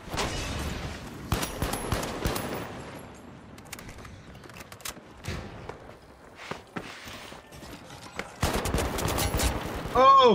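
Pike-556 fire in The Finals crackles in sharp, scattered bursts of shots, some close and loud, others thinner, broken by brief quieter gaps.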